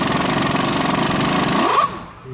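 An impact gun hammers rapidly at a bolt on a car's front strut, a loud close burst of ratcheting blows that winds down and stops after about two seconds.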